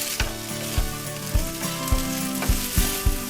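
Japchae made with dried acorn jelly instead of starch noodles is stir-fried in a hot pan, giving a steady sizzle broken by regular scraping stirs about every half second, close and with no voices.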